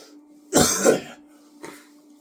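A person with a cold and stuffy nose gives a close, harsh double cough, followed a moment later by a shorter, fainter throat-clearing cough.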